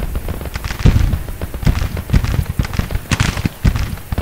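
Rapid, irregular bursts of cannon and gunfire from a Civil War battle in Grand Tactician, including a 6-pounder rifled cannon. The sharp reports crowd one another at close to mid distance with no gaps, and there is no talking.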